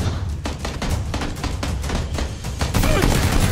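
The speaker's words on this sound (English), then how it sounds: "They're shooting from 330." Gunfire in the video game PlayerUnknown's Battlegrounds: a dense, continuous crackle of rapid shots and thuds, loud and unbroken throughout, with no clear talk over it.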